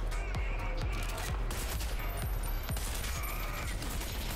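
Video game gunfire crackles in rapid bursts of sharp, repeated shots, with overlapping rattling impacts and game sound underneath, loud and continuous with no talking.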